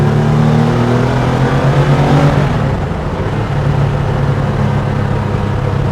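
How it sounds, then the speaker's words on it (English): A 1992 Porsche 911 964 Carrera RS Clubsport engine pulls hard in third gear, its loud, close rasp rising in pitch and then easing into a steadier drone as the car comes out of a corner. "You just get on the brakes slightly, third gear, and ease on the throttle."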